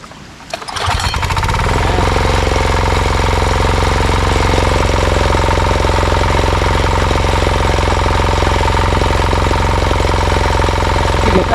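A tractor engine cranks over and catches, then settles into a loud, steady rattling run with a heavy knocking rhythm, close by in a Konkan rice paddy during monsoon planting, with no voices.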